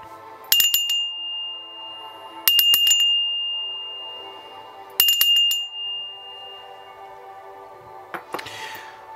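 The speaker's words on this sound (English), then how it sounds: "I'm going to ring the bell 3 times." A small bell rung three times in a clear, evenly spaced series, each bright ring chiming and fading, with a faint rustle at the end; no talking.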